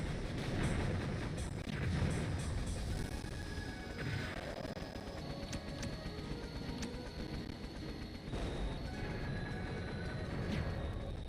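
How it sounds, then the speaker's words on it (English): Main cannon firing in the Sega Saturn mech game Gungriffon, heavy booming blasts over a dense, continuous roar of battle noise and engine rumble with no talking. "But the main gun's like a big cannon."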